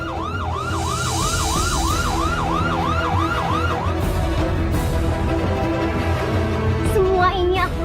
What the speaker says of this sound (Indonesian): Kalian dengar sirene di luar itu?